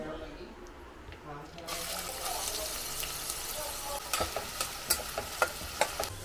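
Onions tipped into hot oil with black pepper, green cardamom, cloves and cinnamon in a home kitchen: a quiet start, then a sudden loud sizzle that keeps going, with rhythmic scraping stirs near the end.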